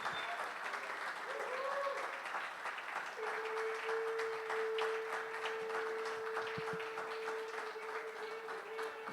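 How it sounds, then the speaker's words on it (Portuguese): Church congregation applauding during a Sunday worship service, sustained dense clapping across the whole stretch, with a held tone from an instrument or microphone ringing under it and a voice briefly audible. "Uma salva de palmas ao Rei dos Reis."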